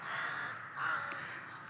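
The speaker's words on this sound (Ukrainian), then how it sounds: "Ніфіга не маленька, то ворон" A young raven caws, a faint, drawn-out hoarse call with a couple of brief harsher notes, heard alone against a quiet background.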